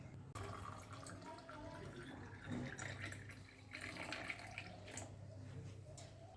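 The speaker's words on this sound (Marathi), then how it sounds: "आता याच्यामध्ये गार पाणी घालायचं" Faint stream of cold water pouring into a pot of raw mango drink, a soft continuous trickle and splash that sits low and quiet throughout.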